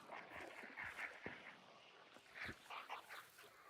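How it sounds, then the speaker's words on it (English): Dogs in the Hunt: Showdown video game whimper and yip in short scattered bursts, faint and somewhat distant, over a low ambient background. "Also, listen to the sounds of the dogs."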